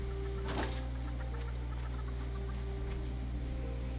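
Chickens in the video game Fallout 76 give a brief clucking burst over a steady low hum of background ambience.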